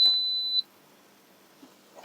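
A cooker gives a single sharp high-pitched electronic beep lasting about half a second, close and clear, followed by near silence with faint handling noises.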